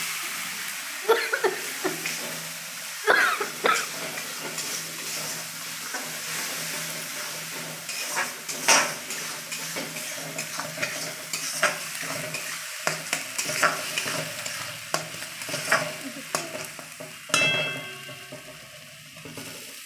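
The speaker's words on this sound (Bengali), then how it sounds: "এই মশলাটা কষাচ্ছি" A paste of onion, ginger, garlic, green chilli and ground prawn heads fries in a pan for prawn malai curry while being stirred, with a continuous sizzle broken by frequent scraping strokes of the spoon, close up and without talk.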